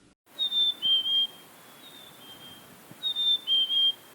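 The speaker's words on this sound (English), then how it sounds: "You might see a chickadee." A chickadee in a backyard sings clear, high whistled two-note phrases, each dropping in pitch, repeated in two bursts with a short pause between, against a soft outdoor background.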